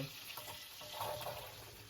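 Butter sizzles softly in a frying pan, a quiet, steady crackle with no voices.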